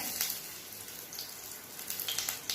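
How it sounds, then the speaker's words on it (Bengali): Whole spices, including large cardamom, cinnamon, a dried red chilli, black peppercorns and cumin, hit hot mustard oil and set off a faint, crackly sizzle with scattered pops that grow busier toward the end. "তেল গরম হয়ে গেছে, এবার আমি ফোড়ন দেব।"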